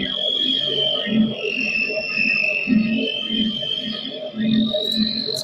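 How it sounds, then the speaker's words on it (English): Crickets chirp in a movie scene as a steady, shrill, high-pitched trill running throughout, with softer, low pulsing background sounds beneath it. "It's like a cricket sound."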